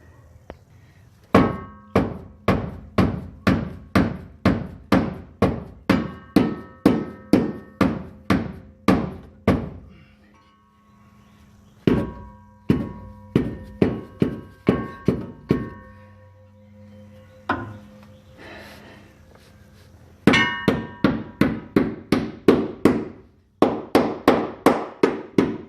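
A hammer pounds a metal heat shield on a Ford Ranger to fold it over, landing dozens of loud, sharp, ringing blows in fast rhythmic runs separated by brief pauses, close up.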